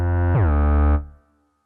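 An 808-style drum sample processed with sample delay and clip distortion: one heavily distorted, sustained booming hit with a dense harmonic buzz that holds for nearly a second, then fades out, heard alone.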